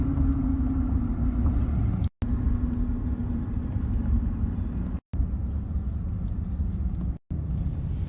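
A car's interior carries a steady low engine rumble and road noise while it drives through a neighborhood and turns around, with a few brief dropouts.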